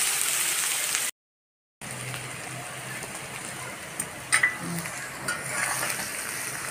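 Mixed vegetables lightly frying in a pan, a low continuous sizzle with a brief gap of silence and a few stirring knocks near the end, close and quiet, no talking.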